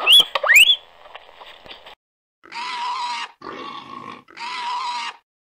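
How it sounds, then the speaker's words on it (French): A guinea pig gives a couple of rising whistle-like squeaks, then three longer, raspy high-pitched squeals separated by short pauses, close and clear. "les cris aigus que nous poussons qui ressemblent aussi éventuellement à ceux d'un cochon"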